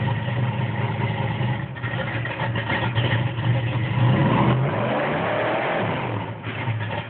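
A car engine revs hard and steadily while the vehicle struggles to climb through dirt with a wheel slipping, a loud, continuous mid-pitched drone that swells slightly as it strains.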